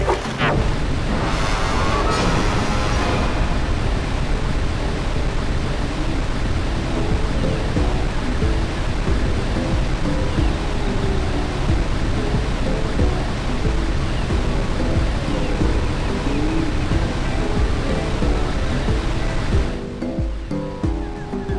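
Loud, continuous ocean surf and rushing water surround a sailing boat in the Jak and Daxter video game, with wind noise running throughout and no voices.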